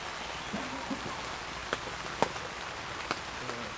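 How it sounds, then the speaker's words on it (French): Steady rain falling on a surface, a dense close patter with a few louder drips standing out now and then. "Et là ce matin il pleut assez haut quoi."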